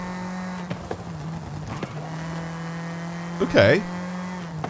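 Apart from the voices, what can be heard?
rally car driving in Forza Horizon 5 video game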